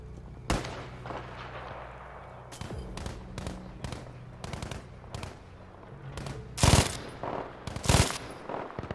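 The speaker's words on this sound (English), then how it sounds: "I got a machine gun, I can lay some fire down if I need to" Machine gun fire in a Battlefield V Firestorm match, with a single crack followed by scattered bursts of rapid shots and two louder, heavier volleys toward the end, heard fairly close amid faint background ambience.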